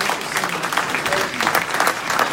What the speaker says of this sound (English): Give them another round of applause, ladies and gentlemen